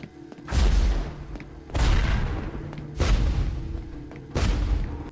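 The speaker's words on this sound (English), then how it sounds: "How did you rig those explosions to go off like that?" Four big booming explosions from an episode of The Legend of Korra land about a second apart, each a heavy thud with a long rumbling tail.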